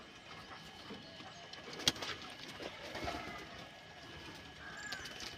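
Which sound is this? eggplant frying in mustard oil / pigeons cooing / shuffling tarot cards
pigeons cooing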